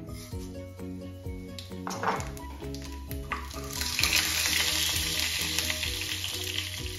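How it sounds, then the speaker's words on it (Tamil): Mustard and fennel seeds crackle and sizzle in hot oil in a pan, with dense popping bursts that swell into a loud, steady frying hiss. "இப்போ சட்டி வச்சு எண்ணெயை விட்டுட்டேன். இதுக்குள்ள இப்போ இந்த கடுகு பெருஞ்சீரகத்தை போடுறேன்."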